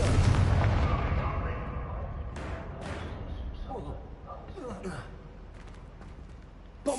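A Confringo fire spell blast in Hogwarts Legacy opens loud with a booming burst, then decays into a rumbling tail with scattered crackles and sweeping whooshes under game ambience.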